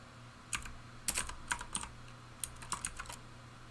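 Code being typed on a computer keyboard for unit tests, with quiet, irregular clusters of clicking keystrokes and short pauses between bursts, alone with no talking.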